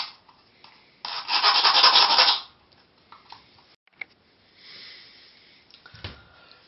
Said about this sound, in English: Take a metal file and just file down the sharp pointy bits off those screws.